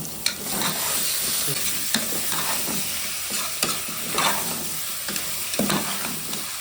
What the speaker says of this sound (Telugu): ఇప్పుడు చికెన్ వేసుకోవాలి